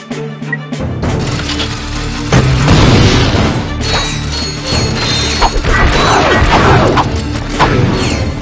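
Gravity bomb exploding in Ratchet and Clank: Going Commando, a loud crashing blast followed by rumbling debris, clanking mechanical clatter and scattered smashing impacts that carry on densely for several seconds.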